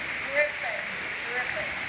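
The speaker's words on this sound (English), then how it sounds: "Look at it pour off the roof." Heavy rain pours off a roof and rushes down a street in a broad, steady wash of water noise, with faint speech-like sounds mixed in.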